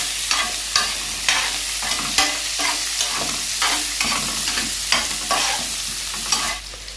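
Onions being stir-fried in an oven tray, a steady broadband sizzle broken by regular scraping strokes about once a second, close and fairly loud, no voices.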